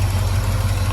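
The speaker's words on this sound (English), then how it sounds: "We can hear the exhaust at idle." A 1984 Porsche 928S exhaust idles up close, giving a steady, loud, deep burbling drone without pause.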